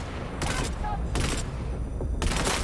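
Gunfire in the video game Cyberpunk 2077, three loud bursts of rapid shots close by, separated by short gaps over a rumbling game background.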